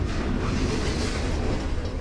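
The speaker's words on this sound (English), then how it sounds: "Oh, that's where the train comes in." A train passing in the video game Life Is Strange, a dense, loud, continuous rumble and roar filling the scene with no talk.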